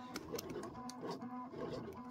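A printer or cutting plotter runs steadily with a low mechanical hum and repeated faint whirring and clicking, quiet and continuous throughout.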